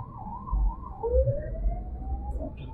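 An ambulance siren wails with rising and falling tones at a crowded bus stand, coming from behind a car on a congested road, steady and moderately loud with traffic rumble beneath and no talk.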